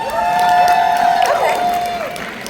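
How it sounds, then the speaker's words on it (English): Audience at a team-events talk cheering and applauding on request, a loud, continuous crowd noise of clapping, whoops and shouts lasting the whole stretch, with a sustained tonal whistle or voice line running through it. "give me a round of applause if you are someone that comes to these events for fun"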